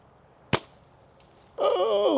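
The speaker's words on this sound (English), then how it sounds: "I'm going to take a few shots at the targets on the tree down there." A slingshot fitted with a kangaroo pouch and 1 mm bands fires at targets on a tree: one sharp, loud snap of the released shot, a faint far tick after it, then a person starts speaking.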